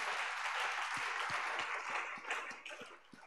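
A church congregation applauds the Lord Jesus in a dense, steady burst of clapping that fades slightly toward the end.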